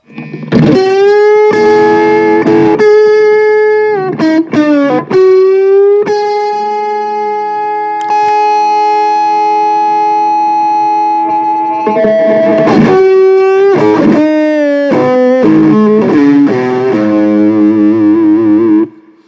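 Electric guitar played through a vintage Boss OS-2 overdrive/distortion pedal rings out with thick, saturated notes, sustained single tones and quick bursts of picked phrases, loud and close with no talking.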